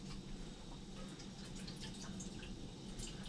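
Water poured into a container for cooking survival food outdoors, a faint, steady trickle with light splashing and dripping throughout, no talking.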